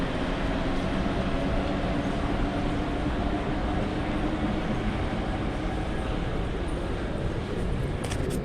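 A Mexico City Metro train rumbles through a subway station, a loud, dense, continuous roar of wheels and carriages that stays close and steady the whole time.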